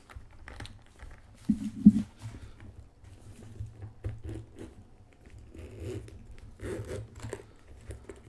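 The zipper of a Goyard Cap Vert PM bag is pulled open close by in a series of short, rasping scrapes, quiet and with no talking.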